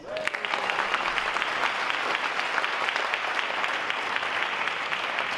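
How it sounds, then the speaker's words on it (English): An audience gives a round of applause at a talk, many hands clapping together in a steady, dense wash that begins almost at once and continues evenly throughout. "I need a round of applause."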